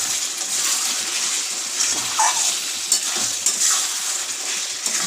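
Chicken curry stirred in a hot pan, a soft continuous sizzle with intermittent wet scrapes and light clinks of the spoon, close by.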